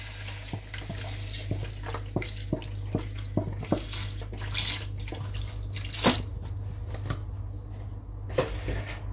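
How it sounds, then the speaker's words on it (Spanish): Chicken broth is poured into a pan of meatballs cooking in Andalusian sauce, giving a close, continuous watery splash with scattered drips and clinks over a low steady hum from the stove. "agregamos lo que es el caldo de pollo"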